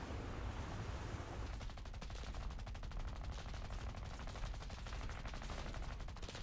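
Aircraft guns on a PB4Y-2 Privateer bomber rattling in a video game air battle, rapid continuous machine-gun bursts with a steady staccato rhythm over engine drone, fairly quiet in the mix.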